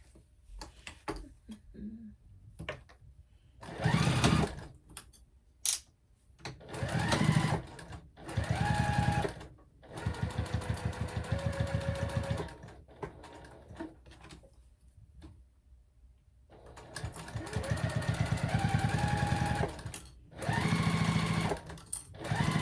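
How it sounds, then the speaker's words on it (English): A domestic sewing machine stitches the seams of a fabric clutch in bursts of rapid mechanical whirring, each run stopping and restarting with short pauses and faint handling noises between. "sew along all 3 sides at 1/2 inch seam allowance"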